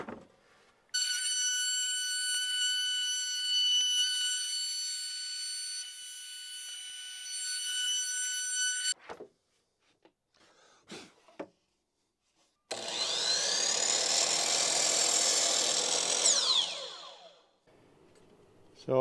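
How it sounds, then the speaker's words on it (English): Router cutting a 3/8 roundover along the edge of a wooden balcony nosing, a loud steady whine with an abrasive cutting roar that runs for several seconds, separated from an earlier high tonal machine whine by short knocks and quiet. "Little 3/8 roundover."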